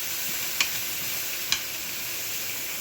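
Liquid added to a hot pan of green beans gives a soft, steady sizzle, broken by two brief clicks of the pan or utensil.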